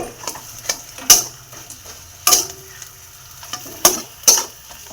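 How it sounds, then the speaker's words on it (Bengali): Mashed potato with chili is stirred into red-fried onions in a pan, with four or five distinct scraping strokes over a soft background sizzle, close and fairly loud. "আমার পেঁয়াজ লাল লাল করে ভাজা হয়ে গেছে, এবার আলু লঙ্কা দিয়ে আলু মাখাটা দিয়ে দেবো।"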